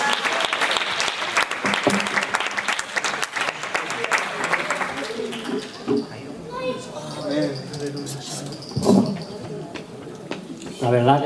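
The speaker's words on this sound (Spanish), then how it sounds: "Vamos a dar un aplauso al Señor" A church congregation of young people bursts into loud clapping for a speaker, the applause fading after several seconds as talking voices take over.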